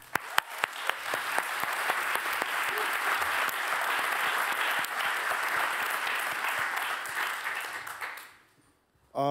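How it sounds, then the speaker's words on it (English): A crowd at an anti-racism event on climate justice applauds the performer Junie: loud, sustained clapping from a large audience with a few sharp claps at the start. It fades out near the end into silence. "Please round of applause for Junie."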